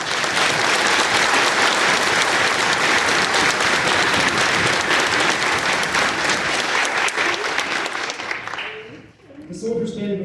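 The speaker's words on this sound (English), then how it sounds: "Please join me in a round of applause for our awesome drill sergeants." A crowd at an Army infantry graduation at Fort Benning claps for drill sergeants in loud, sustained applause that fills the hall, then fades out as a voice begins over the public address system near the end.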